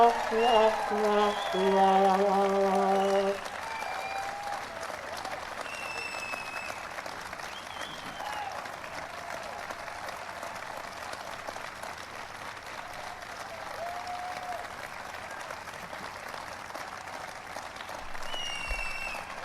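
Steady audience applause fills the whole stretch, a wash of clapping that stays even and moderately loud, with a voice speaking briefly at the start.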